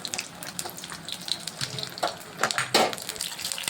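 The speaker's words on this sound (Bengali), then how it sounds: "আমি এটা সুন্দর করে একটু বাদামি রঙের করে ভেজে নিচ্ছি।" Pieces of a flour-based paneer substitute fry in a pan until light brown. The sound is a steady, watery crackle with scattered louder spits and stirring bumps.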